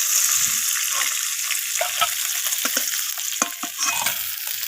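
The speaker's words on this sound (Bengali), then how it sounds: "দু পিস ভালোভাবে লাল লাল করে একটু ভেজে নেব।" Fish heads sizzle steadily in hot oil while being browned, with close stirring scrapes and clinks of a utensil breaking through the constant frying hiss.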